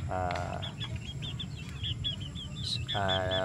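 Pumpkin hatch and kelso chickens clucking and calling in a farmyard, with short rhythmic clucks running throughout and two louder, harmonic squawks or crow-like calls near the start and end.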